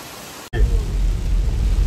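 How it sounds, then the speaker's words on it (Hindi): Heavy rain in Goa sounds as a dense, steady hiss that swells abruptly after a short break, loud and continuous with no talk. "आज का दिन अपना पूरा बारिश में धुलने वाला है"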